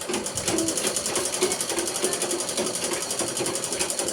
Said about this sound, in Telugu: ఈరోజు మా పిన్ని మిషన్ కుడుతుంది, చూద్దాం.